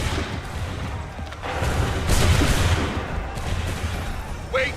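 A massed musket volley in Assassin's Creed III: a loud crash of overlapping shots swells out of a rumbling battlefield din, then fades back into the noise.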